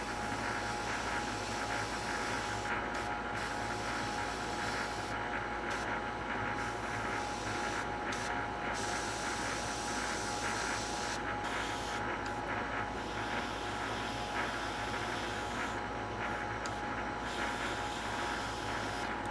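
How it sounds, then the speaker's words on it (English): An airbrush sprays olive drab paint onto a Tamiya P-38F Lightning scale model, a steady close hiss running unbroken throughout with no talk. "now it's time to spray some olive drab"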